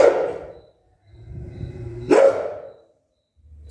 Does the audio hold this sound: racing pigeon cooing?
no